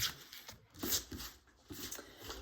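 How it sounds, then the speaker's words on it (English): Tarot cards being gathered and shuffled, soft papery riffles and taps coming in short bursts, quiet and close. "While I'm getting the cards together here, shuffling them up, mixing them up"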